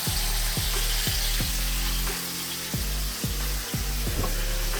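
Chicken pieces for orange chicken sizzle steadily in a hot pan, with a series of sharp clanking bursts from the pieces being flipped with tongs, each followed by renewed loud frying.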